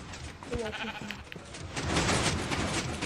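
Minecraft sheep bleat a few times in quick succession in a video game, loud and close, set against a steady wash of game background noise.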